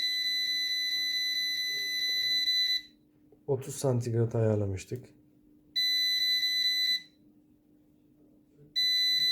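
Loud, shrill electronic alarm from an MRU 400GD explosive and refrigerant gas leak detector, sounding in long bursts that cut off and restart, with a person speaking during one pause.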